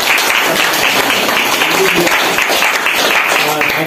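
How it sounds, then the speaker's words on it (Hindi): An audience at a ceremony honoring experienced farmers claps loudly and continuously, a steady dense wave of applause with some crowd voices mixed in throughout. "ल सबैले जोरदार तालीले"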